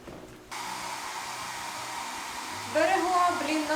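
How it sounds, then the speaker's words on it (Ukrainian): A hair dryer drying sneakers switches on and blows steadily, a constant whooshing hum that rises in pitch and grows slightly louder toward the end. "підсушили кросівки феном"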